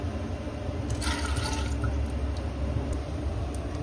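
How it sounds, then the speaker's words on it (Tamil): Water poured from a cup into a pressure cooker, a steady close splashing stream over a constant background hum, briefly brighter near the start of the pour. "குக்கர்ல ஒரு 2 கப்ஸ் வாட்டர் ஆட் பண்ணிக்கிறேன்."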